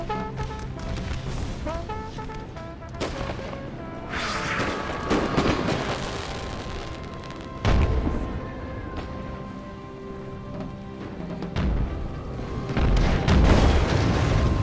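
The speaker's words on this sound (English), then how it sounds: "Looks like some of those 3-inch guns came back." Cannon fire from 3-inch artillery guns on an American Civil War battlefield in a strategy game, heavy booms rolling over a dense bed of distant musketry and battle noise, with louder thumps standing out now and then.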